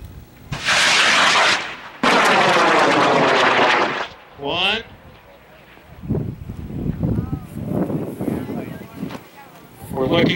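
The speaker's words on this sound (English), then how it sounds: "So we're going to send Fred's rocket up in 5, 4, 3, 2, 1." A three-stage model rocket launches at an airfest with two loud roaring bursts of motor thrust, then a whistling swoosh as it climbs away, followed by fainter crowd chatter and talk.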